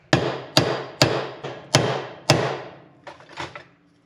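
Hammer strikes on a pipe end to punch a circle from thick gasket material for a DR350SE dirt bike cap, five loud ringing blows at a steady pace followed by a few lighter taps.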